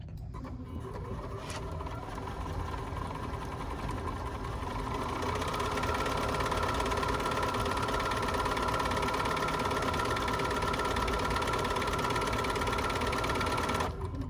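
A BERNINA 4, 5 or 7 Series sewing machine runs stitch number 5 on default settings, a steady close mechanical whir that holds at an even, slightly rising pace for the whole stretch with no talk.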